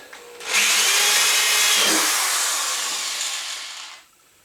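A corded electric drill whirs up suddenly to a loud, high-pitched full-speed whine, holds for about three seconds while slowly easing, then cuts off.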